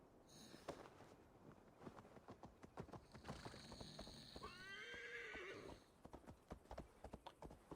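A horse in Assassin's Creed Valhalla clip-clops along on hooves, steady and close, then lets out a long whinnying neigh partway through before the hoofbeats resume. Background sound is quiet.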